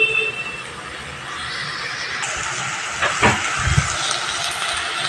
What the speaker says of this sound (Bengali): এবার ভেজে নিতে হবে।